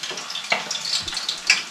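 Seltzer water is poured out, giving a close, fizzy splashing hiss with a couple of gurgling glugs, fairly soft and heard without speech.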